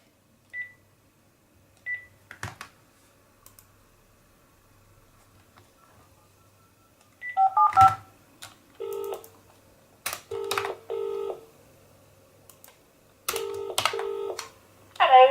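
Several short telephone keypad dialing tones beep in quick clusters, pitched pairs pressed one after another with brief gaps, clear and close with no talking.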